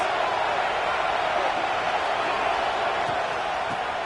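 A college football stadium crowd roars as a steady, broad wash of cheering in a video game, continuous and even in level with no distinct voices standing out.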